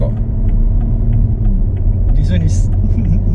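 A BMW X3 M Competition (F97) rumbles along Kyalami Circuit in South Africa with a steady low engine drone, heard from inside the car.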